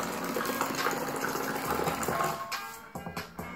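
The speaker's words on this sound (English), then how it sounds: "You hit the button, and the beverage is just free flow like a waterfall." Beverage dispenser on a tailgating unit pouring freely at the push of a button, a steady gushing flow with a humming pump, then a few sputtering splashes as it stops.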